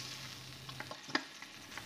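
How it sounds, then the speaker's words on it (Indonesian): Garlic frying in a pan with a little water added, a soft continuous sizzle with a few light stirring clicks and one sharper pop, quiet and close, no voices. "Setelah bawang putihnya harum, masukkan sedikit air."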